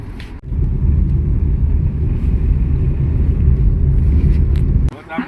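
A tempo, a small goods vehicle carrying passengers on a village outing, rumbles loudly and steadily close by, with its engine noise dropping off sharply near the end.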